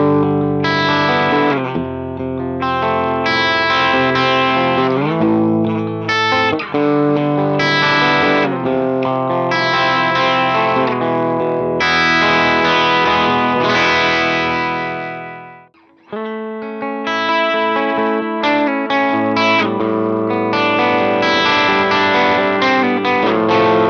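Electric guitar through an Enigmatic amp with a crunchy, overdriven tone plays chords and riffs steadily, with a brief break near the end before picking up again.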